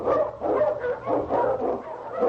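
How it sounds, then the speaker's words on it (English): An Eskimo sled lead dog barks loudly and close in a steady run of rapid, excited barks and yips with no pauses. "The Wonder Dog King, swiftest and strongest of Eskimo lead dogs, blazes the trail through storm and snow"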